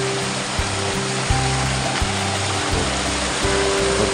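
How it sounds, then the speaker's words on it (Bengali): Glacier meltwater rushes steadily near the Pindari Glacier on a Himalayan trek, a loud continuous broadband wash of flowing water with a low hum running beneath it. "এগুলো গলে গলে সব জল দিয়ে নিচ্ছে পিন্ডারি রিভারে।"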